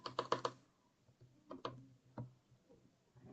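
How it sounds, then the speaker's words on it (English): Fast clicking keystrokes on a computer keyboard, a quick burst followed by scattered taps, quiet and close in an otherwise still room. "I'm typing my Discord right now"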